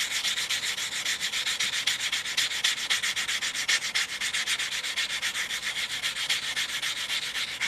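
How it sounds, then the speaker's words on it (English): Steady rhythmic rasping of sandpaper smoothing the cut edge of a coin ring made from a 1974 quarter, close and continuous with quick back-and-forth strokes. "What I'm doing right now is I'm just sanding the cut edge, making sure it's nice and smooth."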